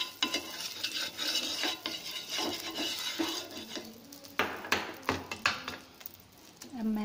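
Butter is spread and mixed across a hot griddle with a utensil, giving a series of scraping, tapping strokes over a faint sizzle, close and moderately loud.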